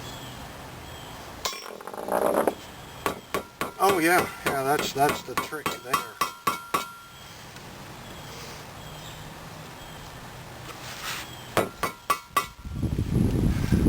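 A hammer strikes a metal punch driven into a tire valve stem on a chrome rim, giving sharp metallic clinks in quick irregular bursts, some close and loud, with brief talk between.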